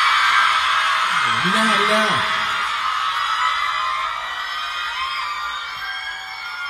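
A concert crowd screams and whoops loudly and steadily throughout, with a voice speaking over the shrill wash of cheering.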